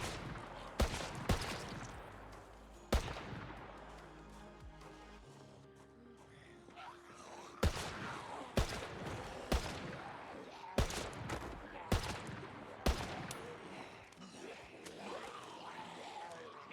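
Rifle gunfire from a video game, with several sharp, loud single shots spaced irregularly over a low background rumble.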